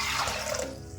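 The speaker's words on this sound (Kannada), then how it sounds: "ನೀರು ಹಾಕ್ಬಿಡಿ" Water pours from close by into a pressure cooker holding lentils, oil, turmeric and a pinch of soda, a loud splashing gush for about half a second that then fades out.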